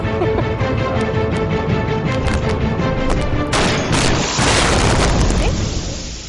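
A rapid barrage of loud gunshots and booming blasts, dense and continuous, growing heavier midway before tapering off at the end.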